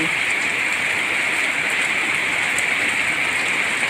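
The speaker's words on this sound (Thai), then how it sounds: "บรรยากาศนี่ค่ะฝนตกนะคะ" Heavy rain pours steadily, a dense continuous hiss of drops hitting surfaces nearby, loud and unbroken throughout.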